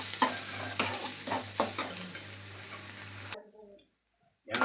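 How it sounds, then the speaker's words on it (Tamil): Chopped onions fry with curry leaves in a pan and sizzle steadily. Repeated scraping stir strokes sound up close, then the sound cuts to silence near the end before briefly returning. "கட் பண்ணி வச்சிருக்கிற வெங்காயம், வெங்காயம் வந்து நல்லா வணங்கட்டும்."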